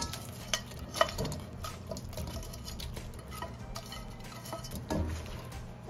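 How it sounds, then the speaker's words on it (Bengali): Pieces of fried chicken go one by one into a pan of sauce for buffalo chicken, giving soft thuds and clinks over a low, steady sizzle and stirring sounds, fairly quiet and close. "আমি এখানে ফ্রাই করে রেখেছি যে চিকেন, সেগুলো এখন এর মধ্যে আমি ঢেলে দিচ্ছি"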